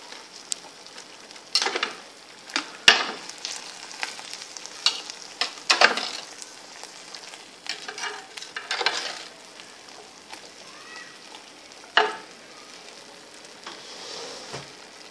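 Beef steaks frying in a pan make a close, crackling sizzle, with scraping and clattering stir sounds as they are turned and moderate spikes now and then.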